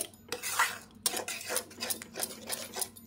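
A spoon clinks and scrapes around a pot as spice mix is stirred into sour yogurt for a begun bahar aubergine dish, several quick close strokes with no talking.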